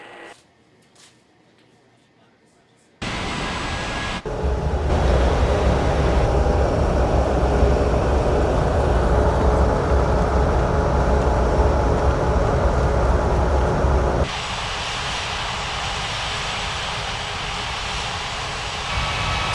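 An airliner on approach to landing in Unmatched Air Traffic Control, a loud steady jet engine drone that starts suddenly after a quiet opening and shifts tone partway through.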